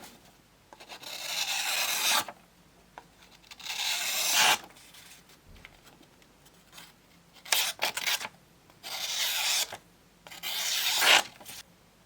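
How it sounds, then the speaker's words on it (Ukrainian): A BeaverCraft Bogorodsky carving knife slices through a cardboard box in five drawn-out, rasping cuts of about two seconds each, with short pauses between them, close and clear. "Подивимось, як же він ріже коробки."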